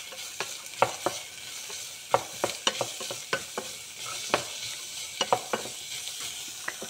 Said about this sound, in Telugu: ఈ క్యారెట్, ఆనియన్, క్యాబేజీ అన్నీ మగ్గనివ్వాలి